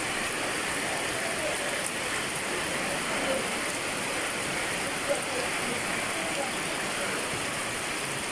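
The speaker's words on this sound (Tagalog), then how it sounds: "mula pa kagabi itong ulan na to" Steady rain on a farm pours down in a constant broadband hiss, with faint scattered drips and no other sounds standing out.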